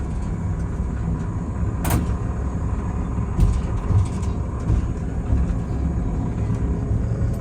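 Riding a small train at Kodomokotsu Park in Japan: a continuous low rumble of a moving vehicle with steady mechanical noise, a brief sharp clank early on, and no talk.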